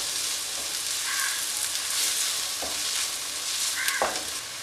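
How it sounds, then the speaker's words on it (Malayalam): Spice masala sizzles and fries in a pan for a Manjali biryani, with a steady crackling hiss and a few distinct scrapes of a spoon stirring, close and quiet. "മസാലയുടെ പച്ചമണം ഒന്ന് മാറുന്നത് വരെ ഒരു ഒന്ന് രണ്ട് മിനിറ്റ് വരെ ഇതൊന്ന് വഴറ്റി കൊടുക്കണം"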